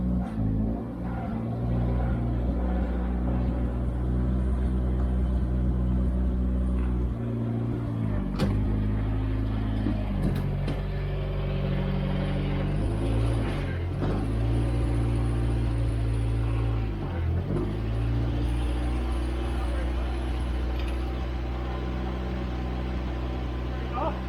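Classic car with a failing handbrake driving slowly onto a trailer, a low steady engine drone with small shifts in pitch, running throughout as a person talks over it.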